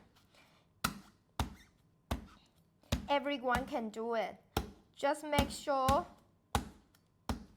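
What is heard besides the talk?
knife striking fresh coconut shell to crack it open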